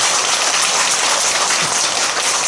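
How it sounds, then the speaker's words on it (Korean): Applause for the head monk at a Buddhist temple dharma talk: a dense, even wash of clapping from a crowd, loud and continuous with no voices, sounding almost like heavy rain. "주지 스님께 큰 박수를 보내주십니다."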